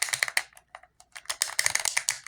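A white horse model toy's rotating joint being turned, giving a rapid series of small, crisp clicks in irregular bursts with brief pauses, close and fairly loud with no talking.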